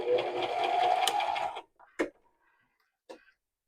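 A home sewing machine runs a zigzag stitch on Christmas stocking fabric, a steady close whirring burst of about one and a half seconds, then stopping, followed by a couple of faint isolated clicks.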